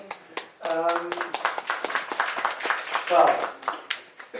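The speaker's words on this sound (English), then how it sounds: "Well-deserved applause" Audience applause at a Davos 2025 panel event, a moderate burst of clapping with a voice speaking over it partway through.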